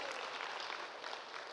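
Steady, dense clapping from a church congregation fills a brief moment at an even, moderate level, with no talking over it.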